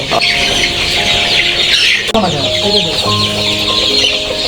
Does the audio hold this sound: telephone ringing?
no